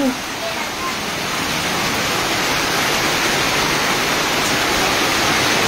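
Steady, dense heavy rain during a typhoon roars continuously, a heavy broadband wash with no breaks, fairly close and loud throughout.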